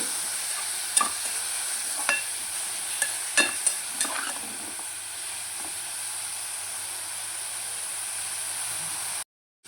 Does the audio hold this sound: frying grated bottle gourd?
yes